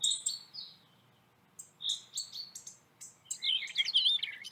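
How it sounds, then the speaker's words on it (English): A small finch gives short, high chirps and squeaky notes in scattered bursts, with a busier run of rapid twittering near the end, fairly close and otherwise alone. "That's some kind of finch, I guess, and he's just kind of squeaks."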